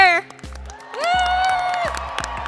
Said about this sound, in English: One last big cheer.